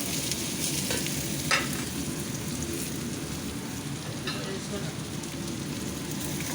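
Ginger, garlic and coconut fry together in a pan, giving a dense continuous sizzle like rain on a surface, with occasional sharper scrapes from stirring.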